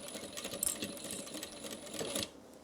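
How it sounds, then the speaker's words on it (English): A sewing machine runs steadily while stitching a gift bag, with a brief backstitch near the end before the motor stops; close and fairly quiet, with no talk. "I'm going to make sure that I backstitch."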